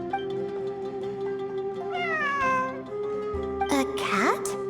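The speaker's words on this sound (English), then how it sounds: "It really is a cat." A cat meows repeatedly in Genshin Impact, a few rising and falling calls heard over steady game music and ambience, with a louder drawn-out meow near the end.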